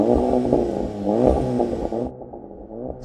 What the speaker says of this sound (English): Golf, give it some revs.